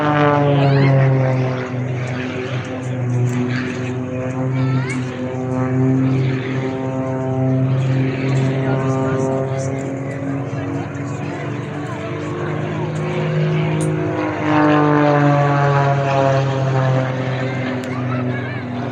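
A propeller aerobatic aircraft performing tail slides and spins at the Eastbourne airshow, its engine droning loud and steady with rising and falling pitch as it manoeuvres, under continuous commentary.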